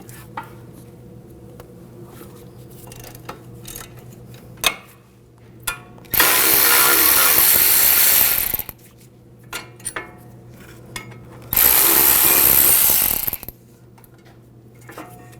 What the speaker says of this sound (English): Now using a 15mm socket, loosen up these bolts.